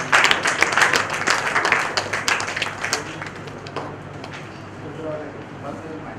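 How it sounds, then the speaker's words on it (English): Audience applause in a conference hall at a medical conference during a felicitation of a surgeon: a burst of brisk, dense clapping for about three seconds that then thins out into room murmur. "Big round of applause."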